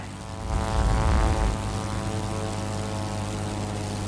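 Propeller warplane engine droning steadily in World of Warplanes, a loud continuous buzzing roar that swells briefly then holds at an even level, with no voices.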